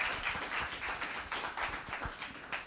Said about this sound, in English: So how about a hand of applause for Chloe